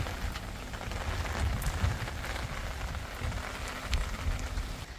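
Steady rain patters on surfaces nearby in a hill village in Himachal Pradesh, a dense continuous hiss with occasional heavier drops.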